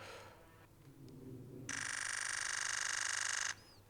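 A Nikon Z9 mirrorless camera's simulated shutter sound at 30 frames per second: a fast, even stream of tiny clicks that fuses into a steady buzzing tone, lasting about two seconds and then stopping against a quiet background.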